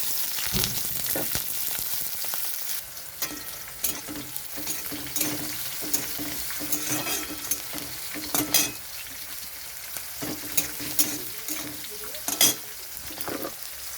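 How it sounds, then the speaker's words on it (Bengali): Ginger, onion and green chilli fry in hot mustard oil in a kadai, giving a steady close sizzle with repeated stirring scrapes and a few sharper clinks against the pan, and no speech. "কড়াইতে সরষের তেল দিয়েছি, তেলটা গরম হয়ে গেছে। এখানে দিয়ে দিচ্ছি আদা, পেঁয়াজ, কাঁচা লঙ্কা।"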